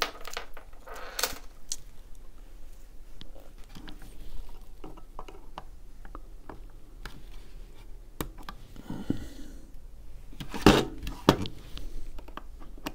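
Small snips cutting coil leads on the deck of a Cthulhu Artemis MTL rebuildable tank atomizer: a few faint, sharp clicks and snaps spread over quiet handling noise, with one louder snip near the end.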